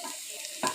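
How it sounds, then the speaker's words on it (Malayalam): Dried red chillies frying in coconut oil in a pan give off a steady, fairly faint hiss and sizzle, with a brief louder crackle near the end. "കുറച്ച് വെളിച്ചെണ്ണ കൂടി ഒഴിച്ചിട്ട് മുളക് മാത്രം മൂപ്പിച്ചെടുക്കുക"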